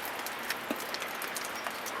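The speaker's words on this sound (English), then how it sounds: "Freaking rain." Steady rain falling during a winter storm after heavy snow, a constant fine patter with a few distinct drops ticking on nearby surfaces.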